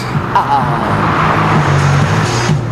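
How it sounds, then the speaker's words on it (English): A car pulls up fast and close, its engine revving loudly and steadily for a few seconds, with people talking over it. "Oh, somebody's in a hurry. I don't recognise the car."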